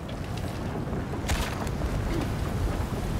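Wind gusts steadily through the Anaru origins game world, a loud, broad rushing roar that holds constant and swells briefly midway.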